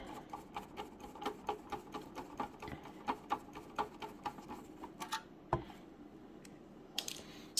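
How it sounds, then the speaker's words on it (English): Screws being backed out of an Asustor Drivestor 2 Pro or Lockerstor 10 NAS enclosure during teardown, heard as a steady run of small, close clicks and ticks with a few sharper knocks. "we'll get those screws out that need to be removed"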